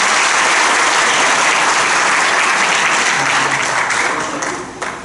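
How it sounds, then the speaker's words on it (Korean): Loud, dense applause from a seated audience at a speaking session, a continuous wash of many clapping hands that holds steady before tapering off near the end. "자, 세 사람 박수 한번 쳐주세요."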